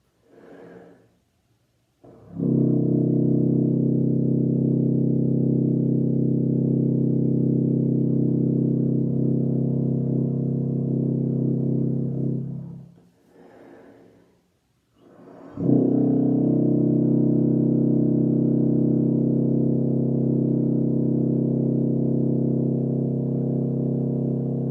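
Tuba sounding a soft, sustained open pedal C, a low, steady drone held for about ten seconds, then a breath and a second long held tone.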